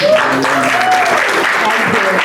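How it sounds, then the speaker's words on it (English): Steady crowd applause at a jewelry shop opening gala dinner fills the whole moment, loud and close, with voices rising over the clapping. "So can we have a clap for her?"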